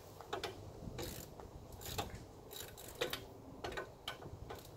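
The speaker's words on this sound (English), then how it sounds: "Then you just take your 17mm. It's going to go on the ratchet." Ratchet clicking while turning a 17mm bolt during a front wheel bearing replacement on a Hyundai Santa Fe, with several short bursts of mechanical clicks spread across the clip, close by and moderately loud.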